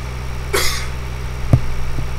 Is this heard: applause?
no